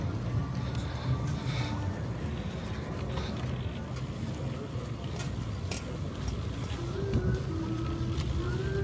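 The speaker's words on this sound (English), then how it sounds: "Traffic." Street traffic at the Venice Beach electric light parade, a car engine passing close amid a steady urban hum, with faint ticking and distant crowd chatter underneath.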